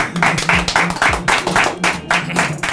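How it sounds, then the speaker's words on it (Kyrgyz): A crowd at a celebration claps together in a brisk, steady rhythm, loud, evenly spaced bursts filling the whole stretch. "Кол чаап коелу, анда келиңиздер."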